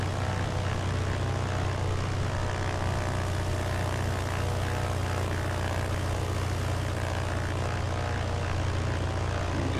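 Steady, droning propeller engine of a BN-2A Mk III Trislander aircraft in a flight simulator, running continuously at close range with a constant low hum and no voices.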